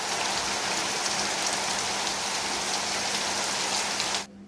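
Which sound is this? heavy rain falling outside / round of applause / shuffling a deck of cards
heavy rain falling outside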